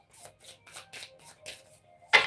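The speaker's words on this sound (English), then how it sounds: "I shuffle and deal my cards right in front of you." Tarot cards being shuffled by hand at close range, a run of six quick riffling bursts in an even rhythm ending in a louder final snap of the deck.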